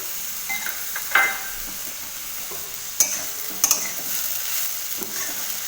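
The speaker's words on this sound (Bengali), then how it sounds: "এবার এটাকে আরও বেশ কিছুক্ষণ ধরে কষাবো" Grated papaya with coconut is stir-fried in a pan with no water, a low steady sizzle under a few sharp scrapes and clinks of the spatula, close by and otherwise quiet.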